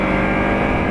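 Kawasaki Ninja 300 motorcycle exhaust, a steady close engine drone holding an even pitch for under a second, loud and continuous with no speech over it.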